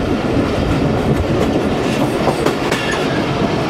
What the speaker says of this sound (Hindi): कर्व के पीछे एकदम गुम गई है ट्रेन